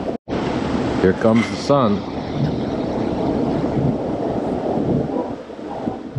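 Steady wind roars across a boat on the open mid-Atlantic at sunrise, a loud, constant rush that blows over the microphone while people talk briefly.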